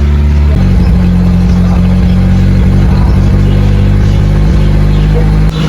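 A Toyota 3A-U engine fitted with a new carburetor and muffler runs steadily, a loud, close, continuous low engine drone with a constant idle-like rhythm throughout.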